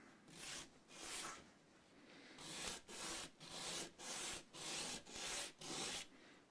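Rough sandpaper rubs back and forth on a wooden guitar part during an acoustic guitar setup, a rhythmic run of about nine close, raspy strokes with short pauses between them.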